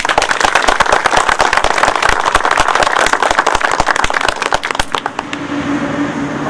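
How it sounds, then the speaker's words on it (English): Audience at a September 11 memorial ceremony claps for two men who served at 9/11, with dense, loud, fast applause for about five seconds before it stops abruptly and leaves quieter room sound. "Can we give them a round of applause"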